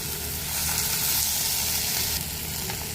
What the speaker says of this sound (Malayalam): വറ്റൽമുളക് മൂത്ത് വരുമ്പോഴത്തേക്കും വേവിച്ച് വെച്ചിരിക്കുന്ന ചെറുപയർ ഇതിലേക്ക് ഇട്ട് കൊടുക്കാം.